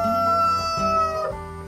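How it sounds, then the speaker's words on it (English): Rooster crowing cock-a-doodle-doo on a farm: a short, loud, tuneful crow, near and alone, broken into a few rising and falling syllables over under two seconds, sounding cartoonish or synthetic. "there was a wise old rooster named Rusty"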